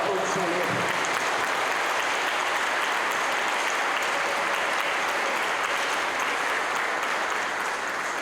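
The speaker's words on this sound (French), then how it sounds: "Alors, applaudissons-le." A church congregation applauding the parish priest at Sunday Mass, a sustained wash of clapping filling the room evenly and steadily throughout.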